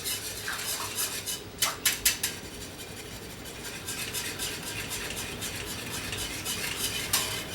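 Brown gravy mix being stirred into a pot for New Orleans roast beef po'boys, with steady scraping and clinking of a utensil against cookware, a few louder knocks near the start, close and continuous.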